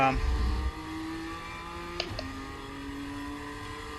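A race car engine in the iRacing sim drones steadily and drops its pitch in a downshift about midway, with a short clunk, under a nearby voice at the start.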